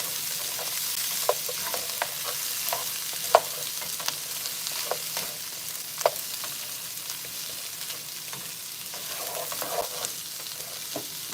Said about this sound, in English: I really did turn the heat up a little bit too much on the garlic.